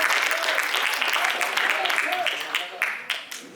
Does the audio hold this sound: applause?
yes